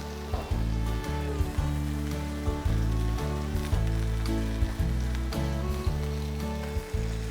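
A cod loin grills in olive oil in a pan, a steady close sizzle broken by regular soft thumps and clicks, with no talking.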